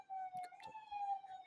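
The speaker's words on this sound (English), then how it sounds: "nonstop sirens" A Brooklyn street siren wails steadily at a distance, a thin sustained tone drifting up and down, faint beneath scattered brief clicks and knocks.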